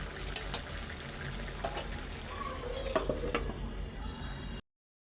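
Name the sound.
heavy raindrops falling on tin roof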